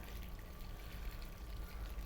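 Chicken stock, about a pint, is poured over lamb in a roasting dish: a steady, soft watery pour and trickle, continuous and fairly faint, with no talking.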